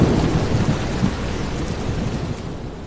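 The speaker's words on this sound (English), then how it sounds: "it starts raining cats and dogs" Heavy, steady downpour with thunder rumbling through a storm outdoors, a dense wash of rain noise holding loud and constant from start to finish with no voices.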